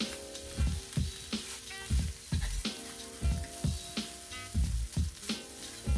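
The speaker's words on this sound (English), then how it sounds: "As it browns, we're going to add some soy sauce onto the pan directly, not onto the rice." Egg fried rice with soy sauce sizzles in a cast iron pan, a steady hiss broken by regular scraping and chopping knocks from a utensil stirring the rice.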